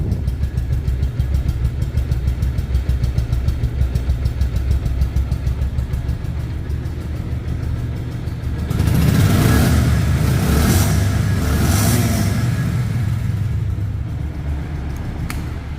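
A 2022 Bajaj Pulsar single-disc motorcycle in showroom condition idles with a steady close putter, then is revved in a series of loud surges before easing back down.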